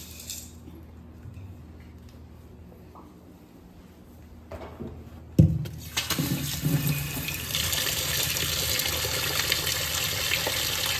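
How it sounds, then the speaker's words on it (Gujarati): After a few quiet seconds and a light knock, a tap gushes into a large vessel of soaked rice and lentils being rinsed for dhokla batter, water running loudly and steadily to the end. "હવે આપણે એને ધોઈ લઈશું પાણીથી ધોઈ લઈશું"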